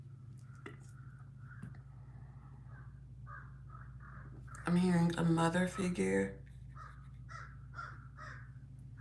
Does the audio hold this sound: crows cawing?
yes